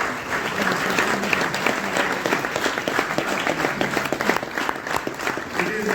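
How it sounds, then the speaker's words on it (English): Audience applause welcoming guests at an indoor hotel event, dense sustained clapping from a large crowd, steady and loud throughout, with voices mixed in beneath. "I request all of you to for a big round of applause to welcome all them."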